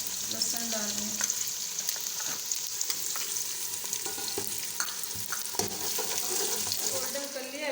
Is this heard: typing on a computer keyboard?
no